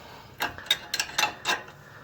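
Ratchet cranking down the bottom bolt of a sway bar link on a 2004–2009 Dodge Durango, five short close clicking strokes in an irregular rhythm over faint background hiss.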